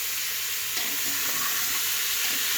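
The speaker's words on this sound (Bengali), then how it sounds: "সবজিগুলো এখন একটু ভেজে নেব খুবই দারুণ লাগবে সরিষার তেলে পুরো রান্নাটাই" Vegetables fry in mustard oil after onion and garlic, for a vegetable khichuri, giving a steady close sizzle and hiss with faint stirring scrapes throughout, no voices.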